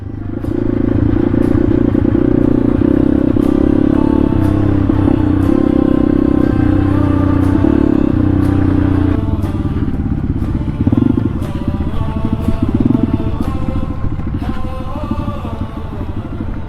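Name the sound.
enduro motorcycles riding on rough rocky mountain road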